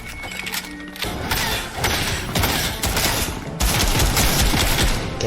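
Dense, continuous video game gunfire while shooting at another player, loud rattling bursts layered with clatter and a brief tone early on, no gaps between volleys.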